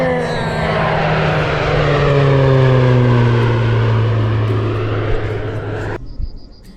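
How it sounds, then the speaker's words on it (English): A propeller airplane drones overhead, its engine tone loud and gradually sliding lower as it passes, then cutting off abruptly. "There's an airplane."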